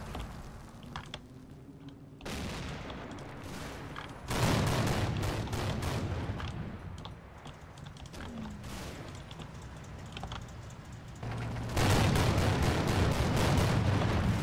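Bursts of 30mm cannon fire in a video game come in dense rapid strings, heavy and loud, with short gaps between volleys and no talk over them.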